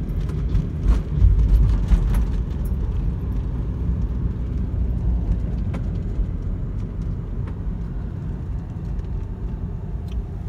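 A Toyota Prius C drives along a road and gathers speed, its steady low road and tire rumble filling the cabin at a fairly even level, with a brief louder swell early on and faint scattered clicks throughout.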